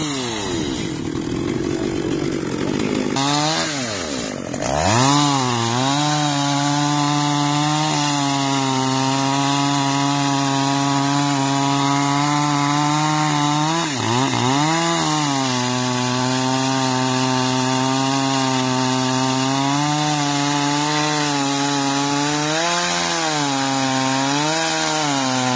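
A chainsaw cuts into a very large eucalyptus tree, its engine droning loud and close for the whole stretch, revving up at the start and dipping in pitch as the chain bites into the trunk.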